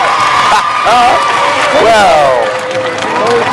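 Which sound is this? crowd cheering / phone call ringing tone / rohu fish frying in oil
crowd cheering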